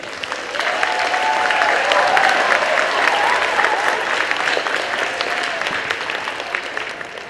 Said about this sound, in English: Boys and girls, let's give a round of applause to Ray, who organizes this at all the schools every year.